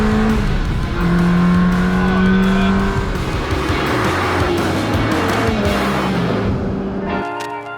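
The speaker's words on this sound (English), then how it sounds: "nothing beats an angry Ferrari" An angry Ferrari V8 exhaust roars loudly up close, rising and falling in pitch through a hard run with rev changes, then cutting sharply near the end.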